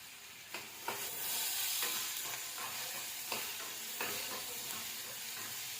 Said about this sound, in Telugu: ఇప్పుడు దాంట్లోకి మనం చిల్లీస్ వేసేద్దాం.